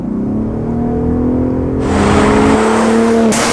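A 2022 Ford F-150 Raptor in sport mode revs loudly up close, its exhaust note climbing and holding through a rising, whirring pitch sweep, with no voices over it.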